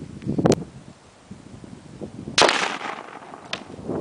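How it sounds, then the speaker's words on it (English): A 300 Win Mag rifle round fired into a SAPI armor plate lands as a loud, sharp crack and impact with a brief decay, preceded by a fainter thump, outdoors with no talking. "we just shot this plate with a 300 Win Mag"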